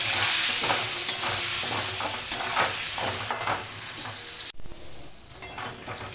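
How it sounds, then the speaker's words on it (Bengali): Potatoes fry in a pan with salt and turmeric, giving a steady close sizzle with repeated stirring scrapes, broken by a brief sharp drop and then a quieter crackle. "একটুখানি লাল লাল করে আলুটা ভেজে নেব।"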